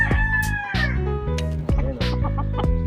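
Roosters crow and chickens cluck close by in a gamefowl yard, with several overlapping crows and clucks filling the short stretch, loud and near, with no talking.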